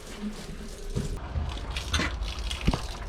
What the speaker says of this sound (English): So I open up the low point drains just to get some pink.